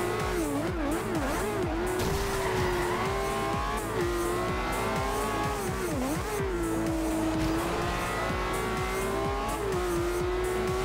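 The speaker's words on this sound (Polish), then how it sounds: "Naprawdę ten Aventador ma świetne przyspieszenie." A Lamborghini Aventador races in Forza Horizon 2, its engine roaring loud and continuous with rising and falling revs through gear shifts, plus occasional tire noise.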